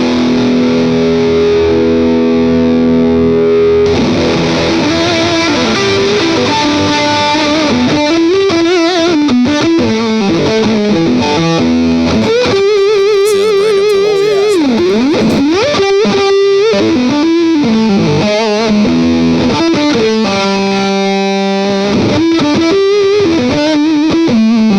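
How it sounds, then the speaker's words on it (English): Electric guitar played through an ENGL fuzz pedal into a distorted amp: thick, saturated sustained notes and riffs, loud and continuous for about 25 seconds, with bends and held chords and no talking. "So if you have a distorted amp, the best way to use fuzz is if you go into distortion."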